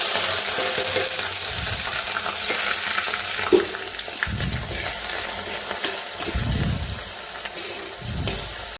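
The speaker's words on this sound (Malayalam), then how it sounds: "അതിനുശേഷം നമ്മൾ അരിച്ച് വെച്ചേക്കുന്ന ചതച്ച് വെച്ചേക്കുന്ന ഇഞ്ചി വെളുത്തുള്ളി ചുവന്നുള്ളി ഇട്ട് കൊടുക്കാം" Crushed ginger, garlic and shallots frying in hot oil give a close, steady sizzle with occasional stirring scrapes and clinks, and no voices.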